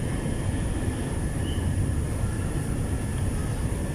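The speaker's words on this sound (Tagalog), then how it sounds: "Ayan po yung MRT, papunta po yun ng Cubao." An MRT train rolls past near SM Megamall in Ortigas, Mandaluyong, heading north toward Cubao, heard as a steady, fairly distant low rumble with faint high whine and no talking.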